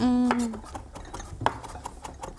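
A knife chops food on a cutting board in the kitchen, several quick irregular taps close by, with a brief voice at the start and light kitchen clatter around the cuts.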